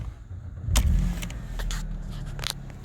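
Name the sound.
Mercedes C180 Compressor 1.8 petrol engine starting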